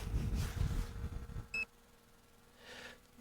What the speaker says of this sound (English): That's why it's giving us that beep there.